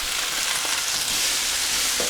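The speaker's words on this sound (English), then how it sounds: "I'm just going to be frying these for a couple of minutes just to get them to soften up and some colour to them" Mushrooms frying in a pan with bell pepper give a steady, close crackling sizzle, with occasional soft stirring scrapes and no talk.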